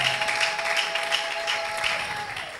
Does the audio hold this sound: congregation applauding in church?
yes